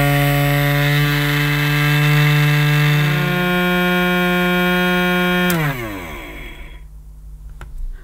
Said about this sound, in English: So now is the time to press the only functional button on this cleaner,